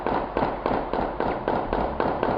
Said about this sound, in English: This is the sound of gunshots fired on 85th Avenue in East Oakland,